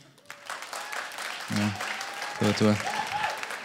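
Audience at a stand-up comedy show answers with two short bursts of applause and cheering, while the comedian speaks in French between them.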